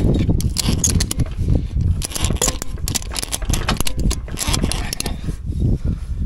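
A hand-cranked tool seats the bead of a tractor tire, producing a close series of ratcheting clicks and mechanical scrapes in an uneven rhythm, with no talk.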